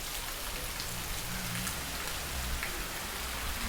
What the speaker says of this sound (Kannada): ಕೋಲಾರ ಜಿಲ್ಲೆ ಬೊಡಮಕನಹಳ್ಳಿಯಲ್ಲಿ ಭಾರಿ ಮಳೆ